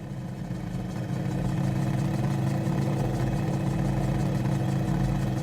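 A barrel-bodied homebuilt helicopter runs steadily in Microsoft Flight Simulator, a continuous low engine and rotor drone with a rumbling hum at constant loudness, no voices.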